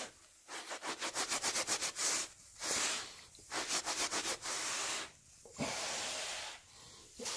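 A microfiber towel rubs and blots pet spots on carpet in bursts of rapid scrubbing strokes, close and fairly loud, separated by short pauses with no talking.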